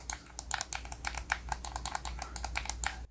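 Mechanical buttons on a GameSir G7 SE Hall effect Xbox controller click in quick, crisp succession, about two dozen sharp close taps in an uneven rhythm, with no voices.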